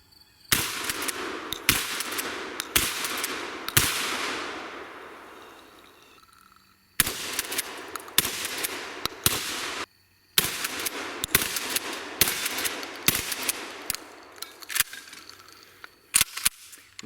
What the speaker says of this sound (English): I'm going to run some ammo through this. We're going to shoot some stuff